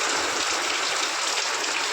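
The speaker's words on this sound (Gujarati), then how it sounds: "તો ભાઈ જબરજસ્ત એવો વરસાદ અંધાર્યો છે ને" Heavy monsoon rain pours down steadily, a dense, even hiss of drops close by that holds level throughout with no voices over it.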